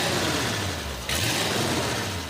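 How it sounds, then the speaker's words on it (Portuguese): A running combustion engine gives a steady, dense mechanical drone with a fast rattling texture. Partway through, a brighter hiss joins as the sound grows slightly louder. No voices are heard. "o barulho do motor e isso acontecendo assim"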